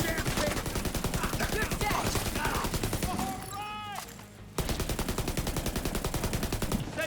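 Rapid automatic gunfire in a video game, dense repeated shots near and loud for most of the stretch, broken by a brief lull with a rising electronic whine before the firing resumes.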